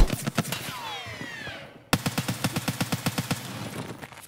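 Automatic gunfire in Escape from Tarkov, a short burst followed by a descending whistle, then a long rapid string of about twenty sharp close shots in even rhythm, fading at the end.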